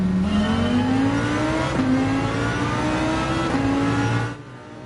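Lamborghini engine in Gran Turismo 7 climbing steadily through the gears, with a loud continuous rising whine broken by quick shifts, then easing off and fading at the end.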